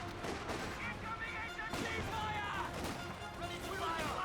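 A Vickers machine gun fires in the Company of Heroes 2 video game, its clattering bursts mixed into a dense din of distant gunfire and explosions, with a voice speaking over the battle.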